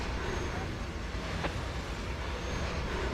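A train in the railway simulation game Trainz, a continuous broadband rumble and hiss of rolling stock, steady and fairly loud throughout with no distinct events.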